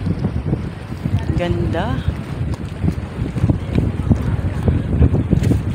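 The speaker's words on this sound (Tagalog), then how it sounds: "Lakas ng hangin." Strong wind buffets the microphone by the sea at Lopez, Quezon, a steady loud rushing roar that runs through the whole stretch, with a brief voice speaking early on.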